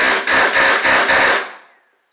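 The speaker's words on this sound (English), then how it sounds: "Take my steel, get it square against the rivet." Four or five rapid, ringing metallic hammer blows on a rivet held against a steel bucking bar while repairing a dented aluminum jonboat, loud and close, with a short decay after the last strike.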